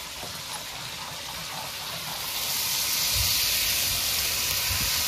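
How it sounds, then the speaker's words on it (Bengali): Water poured into a very hot pan of frying hilsa fish bursts into a loud, broad sizzling hiss that builds steadily and stays close, with faint clinks of the pan underneath. "এবার এই থালাটা ধুয়ে জল দিয়ে দেবো।"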